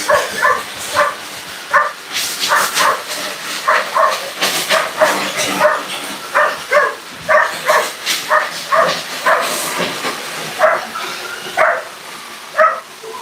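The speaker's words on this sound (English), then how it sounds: "The more motivated the dog is, the faster they go run." A dog runs hard on a treadmill, its feet and the belt making a quick, even rhythmic patter, broken by loud repeated barks throughout while the machine keeps running.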